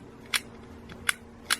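An old turn-of-the-century camera's shutter is tested three times, each a short, crisp mechanical click with a faint hum underneath and no talking.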